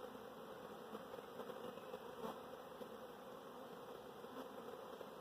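Large swarm of honey bees moving into a hive box, a close, continuous buzzing hum with a steady drone and no talk.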